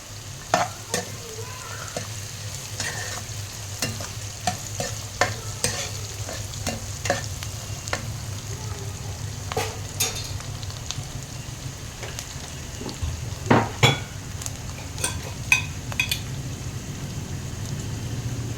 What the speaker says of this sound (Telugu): ఆనియన్స్, పచ్చిమిర్చి మంచిగా ఇందులో వేగితే ఫ్లేవర్ ఎన్హాన్స్ అవుతుంది